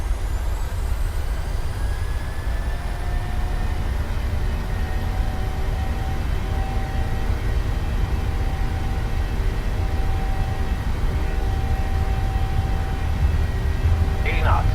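Airliner jet engines spool up to takeoff thrust in a PMDG flight simulator: a steady, loud broadband roar with a low rumble and a faint rising whine, continuous throughout with no pauses.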